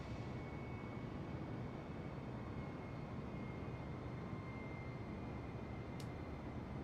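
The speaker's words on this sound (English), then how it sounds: "I'm pretty sure the engine is now stalling out" A steady, low, broadband aircraft engine drone from Microsoft Flight Simulator as the plane's engine stalls out, continuous and even with a faint thin tone running over it and a brief click near the end, with no talking.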